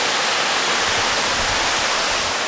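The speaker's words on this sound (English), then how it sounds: "that waterfall is very loud" A loud waterfall roars as a dense, even wash of noise that fills the whole clip, recorded up close, with no talk.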